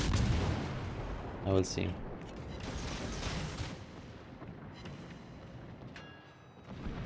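Naval gunfire in World of Warships aimed at a Fletcher destroyer, with a British cruiser firing; booming salvos ring out under a player's commentary, with a sharp burst of shots near the middle and a rumbling battle backdrop.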